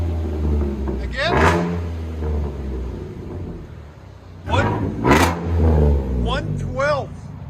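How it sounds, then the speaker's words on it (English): A Chevy Silverado V8 with a Dynomax Race Bullet exhaust revs up close in two loud surges, climbing and falling in pitch with a deep rumble between them. "Dynamax Race Bullet. Oh my God, it's so loud."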